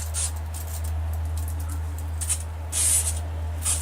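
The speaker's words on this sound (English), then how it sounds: "You just spray it on and get good coverage." Acid stain sprayed onto a concrete bench in short hissing bursts, with the brightest spurts near the end, over a steady low electrical hum.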